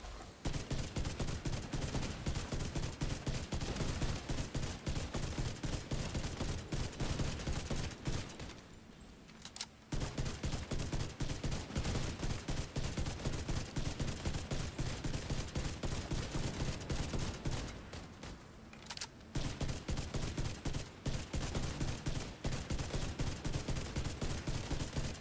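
Ravenous rifle gunfire in the Division 2 video game, loud rapid shots in long bursts with two short pauses.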